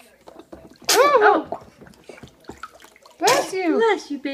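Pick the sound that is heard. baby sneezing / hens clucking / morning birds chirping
baby sneezing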